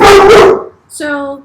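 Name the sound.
dogs barking while playing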